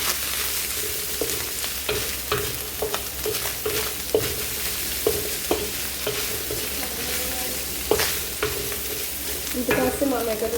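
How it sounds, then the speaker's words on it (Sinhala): Chicken fries in a pan as chopped onions are added, a loud continuous sizzle with repeated scraping and tapping of a stirring utensil in an uneven rhythm, close and without talk. "දැන් චිකන් එක බැදීගෙන ඉන්නේ. මම එකතු කරනවා ඒකට අපි කපාගත්ත ලුණු ටික."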